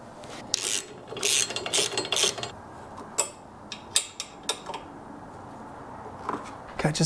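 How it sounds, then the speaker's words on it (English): A ratchet tightens bolts on an auxiliary light mount on a CFMoto Ibex 450 motorcycle, giving close, irregular bursts of rasping clicks and short metallic ticks with pauses between strokes. "I've just got to tighten this down to 20 Newton meters."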